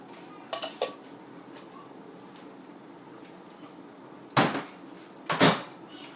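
Canned beans are emptied into a cooking pot in a home kitchen: a few light metallic clinks early, then two loud scraping clatters of can against pot, no talking.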